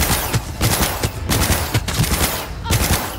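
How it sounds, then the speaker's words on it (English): Rapid gunfire bursts in Cyberpunk 2077, several sharp shots clustered in quick, uneven volleys with loud percussive cracks throughout a busy combat mix. "Heard shots."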